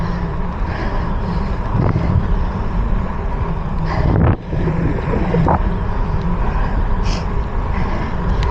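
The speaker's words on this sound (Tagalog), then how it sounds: "Pero lakas ng hangin." Strong wind buffets the microphone in a steady, loud roar during a gravel bike race, with a few brief gusts and dips but no speech.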